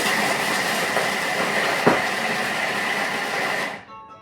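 A Thermomix blitzes chickpea patty mixture on speed 5, a loud, steady whirring grind that holds for several seconds before cutting off abruptly, with no talking.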